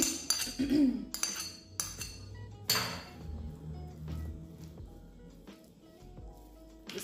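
A creamy corn and mozzarella filling is mixed in a bowl, opening with a few sharp utensil clinks against the bowl, followed by softer, steady stirring and squishing at close range.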